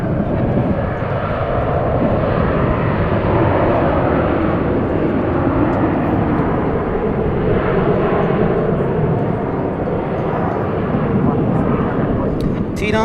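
A Boeing 747 jumbo jet at a busy airport makes a loud, continuous roar that holds steady throughout, a dense rumbling engine wash close by with no pauses.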